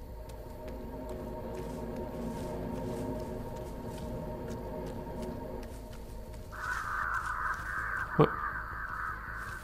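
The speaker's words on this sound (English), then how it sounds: "What were the crows? The crows." Crows caw in the horror game Dead by Daylight, harsh calls rising over a low ambient drone toward the end, with a sudden sharp sound near the close and a brief spoken word from a player.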